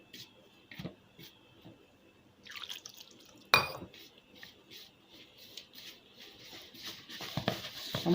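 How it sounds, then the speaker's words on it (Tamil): Water being poured into karasev dough in a kitchen, with dripping and liquid patter followed by mixing noises, moderately faint and interrupted by a sharp clink partway through. "இப்போது நம்ம தண்ணி ஊற்றி பசஞ்சிக்கலாம்."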